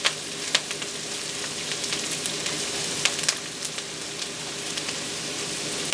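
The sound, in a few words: garlic frying in a pan while making melting cabbage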